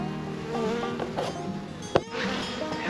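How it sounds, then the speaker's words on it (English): Bees buzz around a compost bin, a close, faint, wavering drone with a few sharp clicks and brief louder passes, with no talk. "we found bees"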